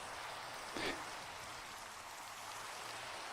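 Steady rain hisses continuously in Minecraft VR, a soft even wash of falling water with one brief louder burst early on; no voices.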